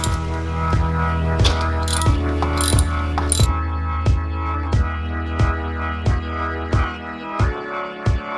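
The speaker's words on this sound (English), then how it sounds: "Alright, let's remove the spark plugs." Ratchet wrench working spark plugs out of a Jeep Wrangler engine, a close run of sharp clicks that repeat at a steady pace, with a few louder metallic knocks early on and no talking.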